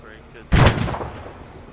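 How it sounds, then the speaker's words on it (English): A single explosion in a video game bursts loudly out of a steady background and then rumbles away, with speech faintly present. "is that an explosion?"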